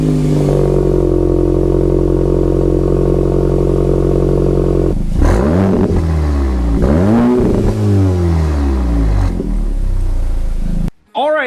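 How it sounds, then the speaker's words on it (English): A Volkswagen GTI street-class build's engine idles steadily, then revs up and down in several loud surges before cutting off abruptly near the end. "we're gonna fire this car up so we can hear it now"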